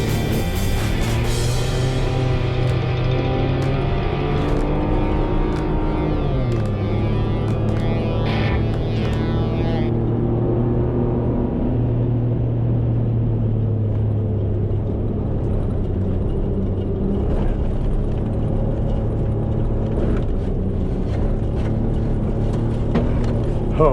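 A diesel Chevrolet Colorado ZR2 truck engine hums steadily as the gas is feathered, its pitch sliding and settling in long smooth sweeps, close and continuous without talk.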